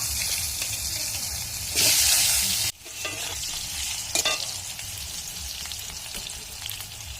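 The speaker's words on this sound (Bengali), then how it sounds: "এবার আমি আলুগুলো ভেজে নেব" Potatoes fry in hot oil in a pan, sending up a loud, continuous sizzle and bubbling. Stirring sounds scrape through it, and one sharp burst of spattering stands out briefly.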